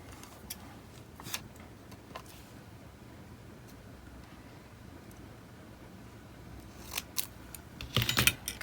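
Scissors snipping through planner sticker clusters, quiet and close, with a few soft scattered snips early on and a quick cluster of sharper cuts near the end.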